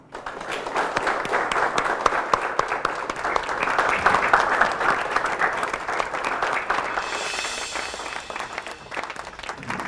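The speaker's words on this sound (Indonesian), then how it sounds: "Beri tepuk tangan untuk mereka berdua." Students in a school setting applaud together, a steady dense wash of clapping from a crowd that carries evenly for about ten seconds without voices on top.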